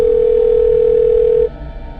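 A telephone dial tone sounds as a call is placed, a loud, steady single pitch that holds for about one and a half seconds and then cuts off, leaving faint background hum.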